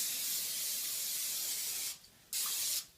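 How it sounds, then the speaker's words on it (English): Pam cooking spray hisses onto a jelly roll pan in a continuous close burst of about two seconds, followed by a brief pause and a second, shorter spray. "Then I spray it with Pam or another spray that you may want."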